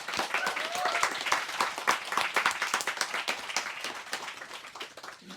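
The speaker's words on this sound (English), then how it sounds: "I'd love it if we could give them both a round of applause now." Indoor audience at a book event for two authors applauding, dense, continuous clapping from many people at moderate volume throughout.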